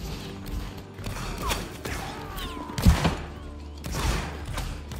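Musket volley fire in a Roblox Napoleonic Wars battle, scattered thumping shots with one louder burst midway amid creaking mechanical game noise, no talk.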